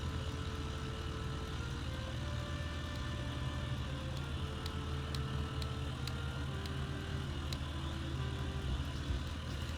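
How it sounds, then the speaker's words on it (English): Tractor engine in Farming Simulator 2013 on a farm, a steady droning hum running evenly throughout with faint occasional clicks over it. "has my tractor arrived? Oh, it has."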